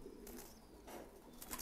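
Thai pigeons coo softly in a coop, low murmuring calls that rise and fall with brief bursts of rustling and faint chirps, heard at a distance with no talking.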